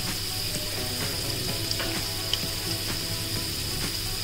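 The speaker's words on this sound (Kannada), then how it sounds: "ಇದೊಂದು ಸ್ವಲ್ಪ ಕಲರ್ ಚೇಂಜ್ ಆಗೋ ತನಕ ಹುರ್ಕೋಬೇಕು" Mustard seeds, urad dal, soaked chana dal and cashews fry in hot oil for South Indian raw mango rice, giving a constant close sizzle with faint crackles and small pops.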